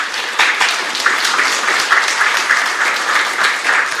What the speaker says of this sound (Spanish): Por favor, para él, un fuerte voto de aplausos.